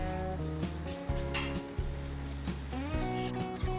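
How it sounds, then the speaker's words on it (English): Whisked curd being stirred into a spicy chutney sizzling in oil, with steady frying hiss, scraping stirs and occasional spoon taps on the pan, all under a continuous musical backing. "Keep stirring it until oil leaves the sides"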